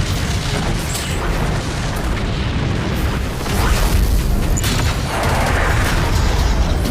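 A laser cannon in an animated donghua fires at a monster with a loud, sustained blast and deep, crackling rumble that swells again partway through, heard without talk.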